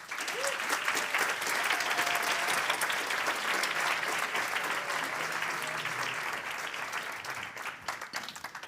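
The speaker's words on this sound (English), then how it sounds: "give our winner one last big applause" An audience at the Startup World Cup Austria 2023 gives the winner a long, dense round of applause, a continuous wash of clapping that holds steady and tapers slightly at the end.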